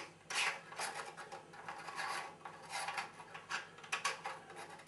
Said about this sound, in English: we take the adapter, and that screws directly onto what we call the visual back on the scope